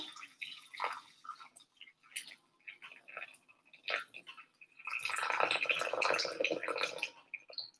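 Hot water is poured over cacao chips for ceremonial cacao. Scattered light clicks and taps come first, then a steady, fairly close rushing pour of liquid runs for about three seconds before it tapers off.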